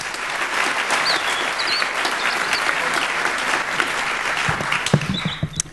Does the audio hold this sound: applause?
yes